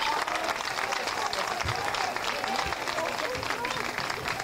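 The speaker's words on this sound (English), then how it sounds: "Big round of applause, both sides." A crowd applauds steadily throughout at a high school baseball game, dense clapping at a distance with a commentator's voice talking over it.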